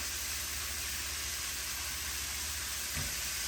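Shrimp sizzling in a hot frying pan, a steady, even hiss with a faint low rumble beneath and a brief soft knock near the end, no voices.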